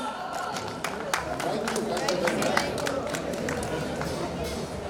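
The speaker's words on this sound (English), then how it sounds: "A huge round of applause." Audience clapping at a college annual cultural festival, a steady ripple of applause with a few sharper close claps over a busy crowd murmur and speech.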